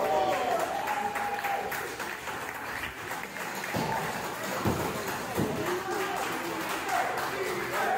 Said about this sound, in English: Crowd is cheering for both of them.